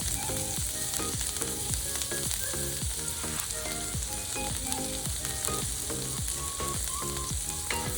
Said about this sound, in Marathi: हे थोडंसं गोल्डन ब्राउन होईपर्यंत आपल्याला हे तेलात फ्राय करायचं आहे